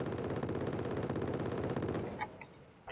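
Rapid automatic gunfire from Wargame: Red Dragon, a dense, steady stream of shots rattling continuously for about two seconds, then breaking into a few sparse pops and a final loud burst.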